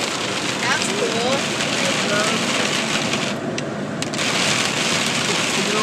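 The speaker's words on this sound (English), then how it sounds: "It's a very weird combination of rain and hail." Winter storm rain mixed with hail pounds down around a car in a dense, steady hiss with sharper scattered ticks. Faint wind noise runs underneath throughout.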